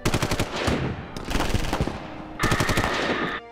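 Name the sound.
machine gun fire in a film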